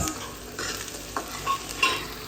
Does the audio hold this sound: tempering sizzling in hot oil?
yes